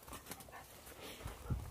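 A dog pants and whimpers softly close by in a short, faint burst of breathy, uneven sounds.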